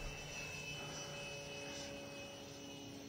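A Freewing J10A 90mm electric ducted-fan RC jet makes a speed run, heard as a faint, steady whine and rush of air with a high tonal hum and no talk.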